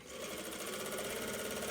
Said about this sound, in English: I'm using an industrial, but the same exact process applies for a home sewing machine.